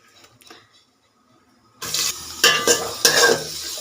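Chopped onions drop into hot oil already holding whole garam masala, setting off a sudden loud sizzle after a near-silent start, followed by repeated scraping stirs close up.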